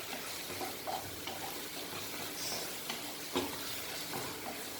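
Masala for a dry peri peri spinach dish frying in a pan, with tomato ketchup mixed in. It gives a steady, soft sizzling hiss with occasional faint stirring clicks, quiet and close.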